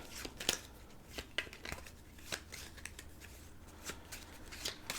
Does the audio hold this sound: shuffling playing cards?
yes